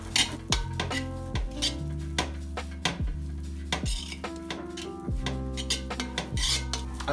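Egg fried rice with spring onion is stirred in a pan, and a metal utensil clanks and scrapes against it in repeated uneven strikes. Soft sizzling runs beneath the close, fairly loud clatter.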